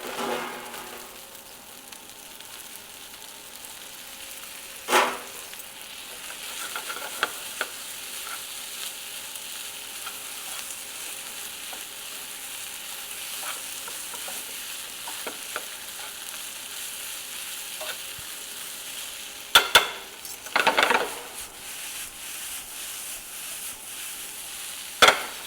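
A steady sizzle of rice and chicken frying in a pan fills the clip, with occasional scrapes and clacks of a utensil stirring it around.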